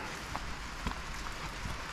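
Steady rain falling outdoors beside an RV hookup, a soft continuous patter with a few faint, sharper drops landing on nearby surfaces, no voices.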